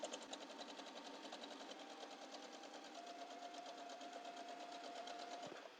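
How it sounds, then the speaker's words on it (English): A Sparrow QE sewing machine stitches fabric in a fast, even mechanical whir with a rapid rhythmic needle pulse, steady and close throughout, with no voices. "Oh, yeah, this sews nice. Ooh, it just grabs it and takes it."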